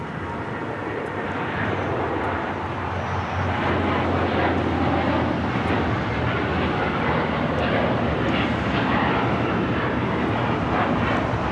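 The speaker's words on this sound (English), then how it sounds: "This is United Airlines 198 taking off to Shanghai on the 7879 Dreamliner" A United Airlines Boeing 787-9 Dreamliner takes off on runway 25 right at LAX, bound for Shanghai, with a loud, steady jet roar that holds and swells slightly across the whole stretch.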